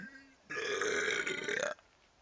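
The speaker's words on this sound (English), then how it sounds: "I'm gonna slowly move my pelvis forward as I let my burp out." A person lets out one loud, drawn-out burp lasting over a second, close and resonant, with quiet room sound before and after.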